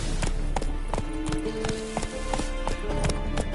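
Roach, the horse in The Witcher 3, gallops in a steady clip-clop rhythm of hooves, close and clear, over a continuous game background.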